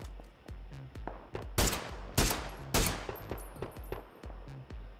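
Gunfire in PUBG Battlegrounds, a string of sharp, evenly spaced single shots with three louder, closer cracks in the middle; no talking.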